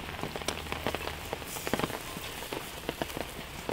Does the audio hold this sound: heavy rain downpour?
yes